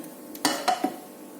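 Gluten-free omelette slid onto a plate and flipped upside down back into a hot frying pan, giving a few soft thumps and clatters against the pan over a faint steady sizzle.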